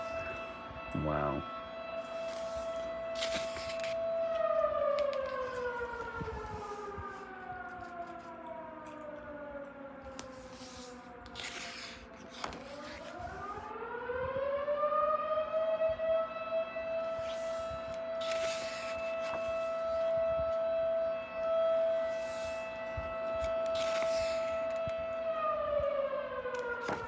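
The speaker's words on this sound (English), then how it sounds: "Fucking dumbass siren." A civil defense siren wails outdoors in long rising and falling sweeps, holding steady tones between slow glides, with people talking intermittently over it.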